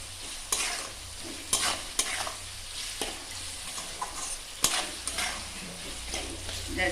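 Poha frying with two spoons of sugar in a pan, stirred with a spatula in irregular scrapes and taps over a steady, low sizzle, no voices.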